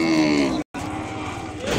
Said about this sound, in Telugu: ఇదిగోండి ఒంగోలు ఆవు, మంచి బారుంది